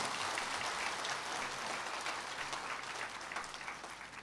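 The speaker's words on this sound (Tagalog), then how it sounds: "Lahat ng nananabik na dumating ang Pasko, pumalakpak." A congregation or crowd applauds steadily in a dense, even wash of clapping that holds for several seconds, moderately distant, with no talk over it.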